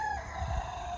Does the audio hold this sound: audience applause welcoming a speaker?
no